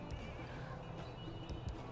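Neighing of Saka horse archers in the video game Civilization 6, a short whinny with faint hoof clip-clop beneath, somewhat quiet under a busy game soundscape.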